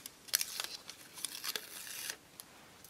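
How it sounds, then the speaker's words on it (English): Fusible web backing paper being cut with scissors and peeled away from appliqué fabric, heard as close, quiet crisp snips and papery tearing crinkles in short bursts, alone without talk. "Cut on the line and then peel off the paper."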